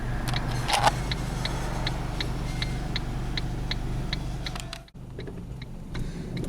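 A car drives into a home garage, its steady low engine hum running throughout with faint regular ticking above it and a brief dip in sound near the end.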